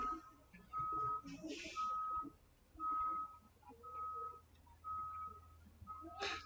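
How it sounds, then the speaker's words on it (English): A big truck backing up on a residential street outside, its reversing alarm giving regular evenly spaced beeps, moderately loud through a room, with a few other noises between them. "We've got a big truck going down the wrong way on our street here"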